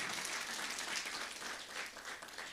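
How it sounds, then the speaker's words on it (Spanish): Congregation applauding a married couple at a Sunday church service, a steady dense wash of clapping throughout, moderately loud and even with no voices. "vamos a dar fuertes aplausos"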